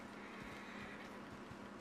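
A horse whinnies in the video game Red Dead Redemption 2 amid a dense, steady wash of broadband game noise, with a few soft low thumps scattered through.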